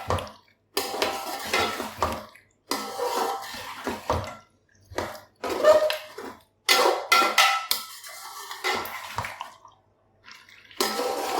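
Mutton karahi sautéing in a pan, with repeated bursts of spoon-on-metal scraping and sizzling stirring separated by short quiet pauses, close and clear with no talk.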